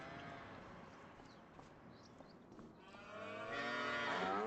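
Cattle low in the Farming Simulator 25 video game on the Pichonnière Valley map. A herd kept out in a field gives a drawn-out, rising moo near the end, after quieter lowing and soft background ambience.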